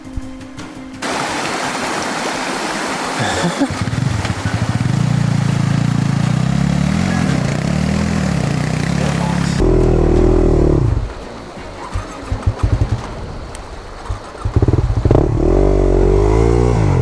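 Yamaha WR250R dirt bike engine revving loudly while stuck in a stream in the Victorian High Country, with rushing water and clatter, then a burst of higher revs as the bike pushes free.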